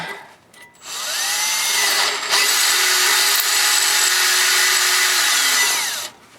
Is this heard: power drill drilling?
yes